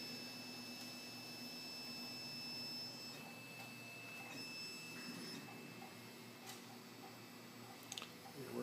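Faint steady mechanical whir with thin high-pitched motor whines and occasional soft clicks from a 3D printer printing ABS plastic at 20% infill; no talking.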